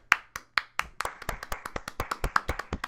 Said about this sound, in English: I'm clapping for you right now.